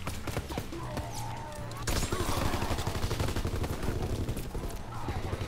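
FG-42 rifle fire in Call of Duty Nazi Zombies, with rapid bursts of shots over a dense, busy game soundscape and some speech mixed in, loud and continuous throughout.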